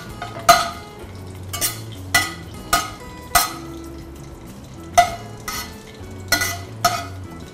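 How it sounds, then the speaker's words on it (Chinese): Ginger stir-frying in hot oil in a wok: a low sizzle broken by about ten sharp metal scrapes and clanks of a spatula at uneven intervals, close and loud, with no talking. "要把材料爆香，生姜先下去"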